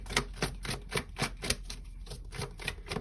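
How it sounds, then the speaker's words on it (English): Tarot cards riffled and shuffled by hand, a rapid run of crisp close flicks and snaps repeating at an even pace for several seconds. "oh no, let's shuffle these first"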